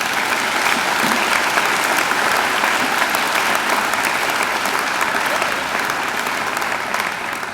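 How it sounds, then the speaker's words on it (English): Loud, sustained applause fills a graduation hall as a large audience claps continuously for several seconds, dense and even with a slight taper toward the end. "I think Angela deserves another great round of applause"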